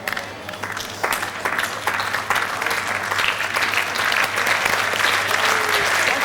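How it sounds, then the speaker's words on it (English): Lawn bowls players applauding on the green after the final bowl of a 2005 triples match between New Zealand and Scotland, a steady patter of hand claps that grows slightly fuller over several seconds, heard from a moderate distance. "applause from all players for that final bowl from Joe Edwards"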